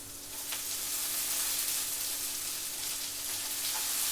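Oil sizzles steadily in a pan as spices temper for carrots, a constant crackling hiss with no talking over it.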